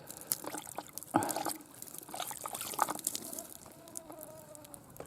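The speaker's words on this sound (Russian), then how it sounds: "Что же ты капаешь так?" Water dripping and trickling from a leaking outdoor washbasin at a countryside camp, irregular close patters and small splashes against a quiet outdoor background.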